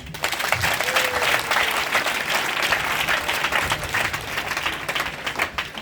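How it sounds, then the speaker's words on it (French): A large audience at a church convention applauds the parents with dense, sustained clapping that stays loud and steady throughout. "Acclamez-vous les parents."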